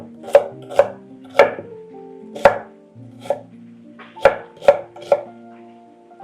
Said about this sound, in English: cut up some red onion.